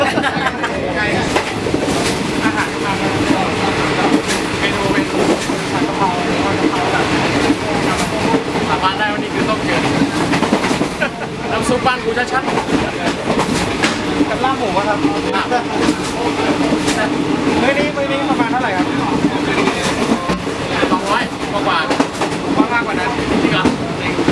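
A train rumbles steadily along the rails with rhythmic clatter and rattling carriages, people talking and chattering over the continuous noise.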